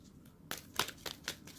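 Tarot cards are shuffled by hand. Several quick papery riffles and slaps come close to the listener in a soft, irregular rhythm, with no talking.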